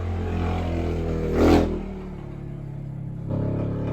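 A motorcycle engine hums at moderate distance, with a brief louder whoosh around the middle as it passes and a renewed engine drone near the end.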